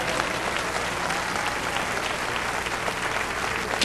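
A church congregation applauds during a sermon, a loud, steady roar of clapping from a large crowd that fills the whole stretch without a break.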